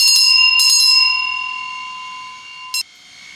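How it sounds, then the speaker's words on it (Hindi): A bright bell chimes clearly three times, each ring leaving a long shimmering tone that fades slowly, with the last strike shorter and sharper than the first two. "हमारी घंटी बज चुकी है"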